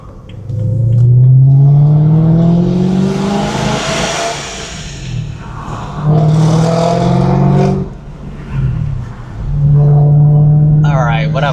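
A BMW M3 with an exhaust leak accelerating hard through repeated gear pulls, its loud rising engine drone climbing in pitch, dropping at each shift and climbing again.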